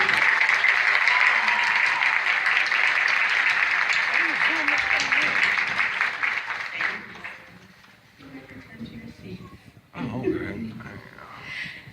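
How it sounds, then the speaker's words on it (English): Applause from an audience at a graduation ceremony, loud and sustained for about seven seconds, then fading to scattered claps and murmuring voices before a brief swell of clapping again. "So let's give them a round of applause."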